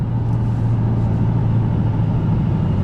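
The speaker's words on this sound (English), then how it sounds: "so I'm in the Mustang right now, driving back home" A 2024 Ford Mustang GT Premium cruises along on a hot summer drive, its engine and road noise forming a steady, loud, even drone heard from inside the cabin.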